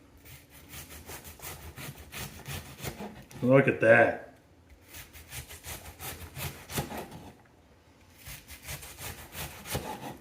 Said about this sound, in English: Nice sawing motions as you go down the onion.